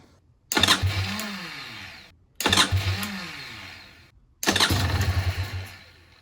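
A motor engine being started after sitting unused for six months, with a freshly fitted muffler. Three separate cranking attempts come close and loud, each a strained, sputtering whir lasting about two seconds with brief silence between, and it never catches.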